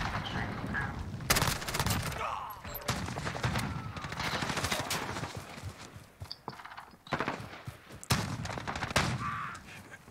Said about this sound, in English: I hear a shotgun over here.